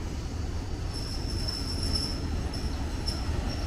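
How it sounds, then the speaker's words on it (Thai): Diesel railcar train 283 pulling into Hua Takhe station, wheels squealing shrilly on the rails over a steady low rumble of the railcar, the squeal rising in repeated bursts throughout, close and loud with no talking. "ขบวนแรกที่เข้ามานี่เป็นขบวนรถขาขึ้นครับ รถดิสลันขบวนที่ 283กรุงเทพบ้านปูตาหลวง"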